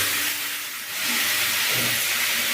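Turnip and potato pieces frying uncovered in a pan, a continuous close hiss with a brief dip before the sizzle resumes.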